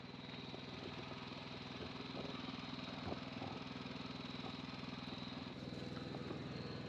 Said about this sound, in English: Here's the Transalp 750.